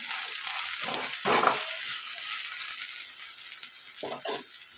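Chopped tomatoes go into a pan with frying ginger garlic paste for a chicken gravy curry; a steady, close sizzle hisses throughout, broken by a few soft scrapes and taps of a spoon.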